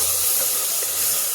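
Spice masala for ghugni sizzles in a pan as a little water is splashed in. It makes a loud, steady hiss over the whole short moment, with no voices.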